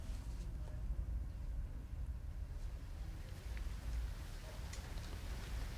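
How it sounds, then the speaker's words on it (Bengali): Steady rain hisses in the background with a low rumble of wind during stormy weather, continuous and even throughout, with no one speaking. "এই মুহূর্তেও আমরা দেখছি যে বৃষ্টি হচ্ছে"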